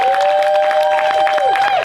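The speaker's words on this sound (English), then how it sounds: "Go ahead and give them a round of applause." Crowd applause at an outdoor rally for Palestine in Eugene, steady dense clapping and cheering throughout, with a sustained whistle-like tone sliding over the top near the end.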